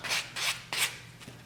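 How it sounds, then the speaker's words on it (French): A nail file rasping across cured gel nails in a few short, close strokes, three firm passes and then a faint final one, with no talking. "vous avez cuit sur une couche de gel. Vous faites votre limage."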